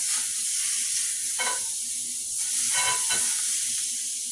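Butter sizzles steadily in a hot pan, a bright continuous hiss with brief crackling swells, close and fairly loud, no talking.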